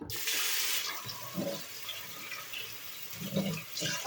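Cold water running from a kitchen tap in the middle of making popcorn, a steady broadband rush that starts abruptly, with brief clatters and bumps of handling as it flows.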